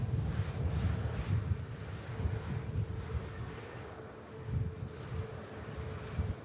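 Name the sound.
Malta Air airliner entering runway for departure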